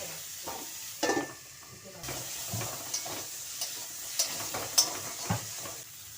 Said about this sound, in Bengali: কারকল ভাজা হয়ে গেছে, তুলে নিচ্ছি।